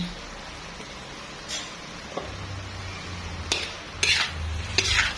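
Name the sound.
stirring pork mixture frying in a pan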